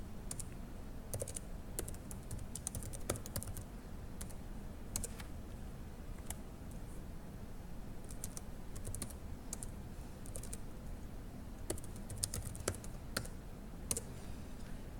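A command is typed on a computer keyboard, with steady, rapid key clicks running throughout at close range, several sharper keystrokes standing out, and no talking.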